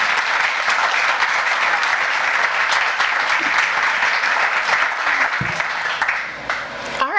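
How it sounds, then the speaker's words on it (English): An audience at a lake association's annual member meeting claps in sustained, dense applause that gradually thins out toward the end, with a few scattered voices underneath. "how about a big round of applause for Jacob?"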